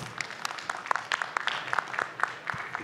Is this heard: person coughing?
no